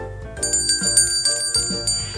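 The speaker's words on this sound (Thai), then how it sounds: "กระดิ่งหรือระฆังนะคะ เพื่อเป็น notification แจ้งเตือน" A bright notification bell chime rings repeatedly in a steady pattern, clear and close with sustained metallic ringing, used as a subscribe reminder sound effect at the end of a beauty review.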